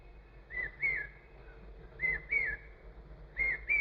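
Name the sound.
bird calling outdoors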